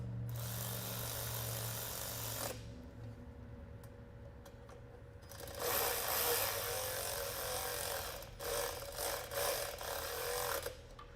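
Hand tools working on the fuel return line at the intake of a 1999 Toyota 4Runner, giving rasping, clicking and scraping bursts up close, with a steady hum beneath and a quiet stretch in the middle.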